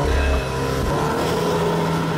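An Audi S3 Black Edition engine on launch control holds a steady, buzzing rev around 4,000 RPM with a droning tone, loud and close, no talking.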